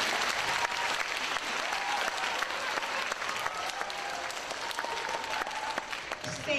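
Applause from the audience at an elementary school award ceremony, a steady wash of many hands clapping together that continues without a break from start to finish.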